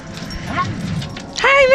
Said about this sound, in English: We have dogs in here?